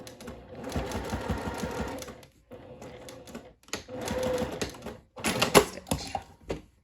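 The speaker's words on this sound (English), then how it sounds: "I start inside and then back stitch to the edge and then go forward again" A sewing machine stitches fabric for a top, running forward and back-stitching to the edge; close mechanical whirring comes in several short bursts separated by brief stops.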